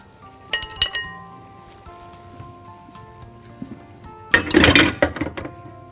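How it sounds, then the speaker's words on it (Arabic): Buttered kunafa pastry is spread and pressed into a metal tart pan for a chicken tart: light metallic clinks and rustling in two close bursts, separated by a quieter stretch, with no talking. "ناخد بقى الطرط بتاعنا ونبتدي نوزع الكنافة كده على الطرط ونبطن بيها الطرط كله"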